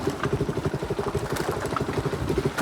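A motorcycle engine runs steadily close by with a rhythmic, chugging low-end pulse and a little mechanical clatter, continuous through the short stretch with no talking over it.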